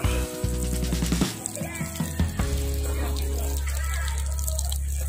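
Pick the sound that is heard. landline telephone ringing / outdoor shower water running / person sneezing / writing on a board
outdoor shower water running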